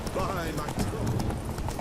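Roach, a horse in The Witcher 3, trots with steady rhythmic clip-clopping hooves, close and moderately loud, with a voice speaking over it.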